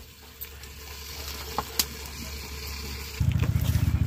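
In a home kitchen, jackfruit seeds and vegetables sauté in a hot pan, giving a steady close sizzle that swells into louder, rhythmic frying and stirring near the end.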